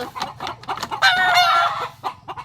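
Several chickens cluck in short bursts, with one louder, drawn-out squawk in the middle; close and lively, no talking.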